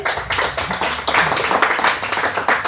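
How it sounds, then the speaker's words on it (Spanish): A church congregation claps hands as an offering of praise, with steady, dense clapping that stays loud and close throughout, with no talk over it. "Dele una ofrenda de palmas al Señor."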